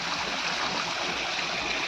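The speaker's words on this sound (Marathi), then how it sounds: "पाण्याच्या आवाजात झुळूझुळू आवाज मस्तपैकी" Continuous bubbling rush of a stream flowing nearby, steady and moderately loud, with no voices.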